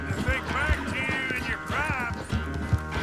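Horse hooves galloping at speed in Red Dead Redemption 2, a steady clip-clop rhythm running through the whole stretch, loud and close under someone talking over it.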